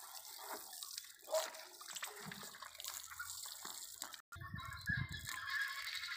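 Water splashing and sloshing as buffalo calves are washed on a Punjab dairy farm, with irregular pours and gurgles nearby and a brief break partway through.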